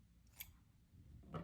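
Scissors snipping crochet yarn, two quick, quiet cuts a second apart in an otherwise hushed room.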